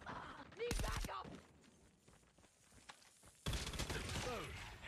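Bursts of gunfire in Call of Duty Mobile, loud volleys near the start and again toward the end with a quieter stretch of faint shots and game noise between.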